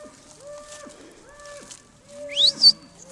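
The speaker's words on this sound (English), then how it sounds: "That one there, that's a carryover heifer." A carryover heifer moos in the pasture, giving several clear, drawn-out lowing calls close by, with a short higher bird-like chirp near the end.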